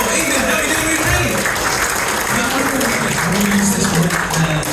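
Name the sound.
audience applause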